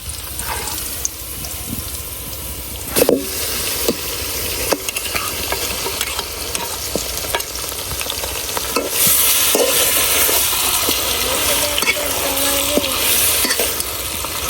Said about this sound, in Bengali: এখন আমি যেই মাংসটা মশলা মাখায় রাখছিলাম এটা দিয়ে দেম